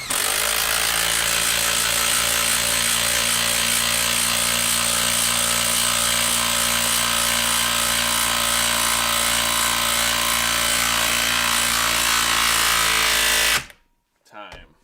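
Dewalt and Makita drills run together at full speed driving screws into wood, a loud sustained whining buzz lasting over thirteen seconds before stopping abruptly, followed by a short burst of sound.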